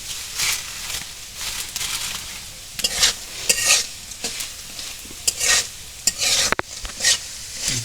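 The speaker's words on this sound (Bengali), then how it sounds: "বড়িটাও লাল লাল ভাজা হোক রসুনও লাল লাল ভাজা হোক" Sun-dried lentil bori and garlic stirred and fried in oil in a home kitchen, a steady sizzle broken by repeated scraping stirs of a spoon against the pan.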